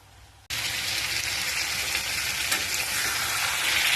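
Meat fries with onion, garlic, ginger and tomato in a pan, a loud sizzle erupting abruptly and holding as a dense, steady crackle with faint stirring, no talking.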